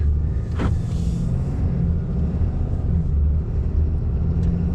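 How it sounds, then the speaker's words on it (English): A Cummins diesel engine rumbles steadily at close range, a low continuous drone with a brief swooshing sweep early on. "I love the sound of the Cummins."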